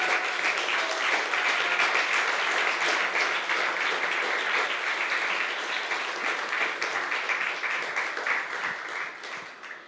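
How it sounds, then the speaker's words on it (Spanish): Church congregation applauding the Lord: a sustained, fairly distant wash of many hands clapping, steady for most of the stretch before gradually tapering off at the end. "Dale un aplauso al Señor, hermanos."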